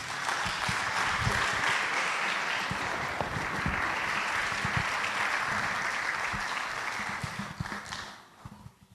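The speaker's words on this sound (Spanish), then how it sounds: "Un gran aplauso para el pastor, por favor." A church congregation applauds its pastor in a sustained wave of many hands clapping at moderate volume, steady for most of the stretch before dying away over the last second.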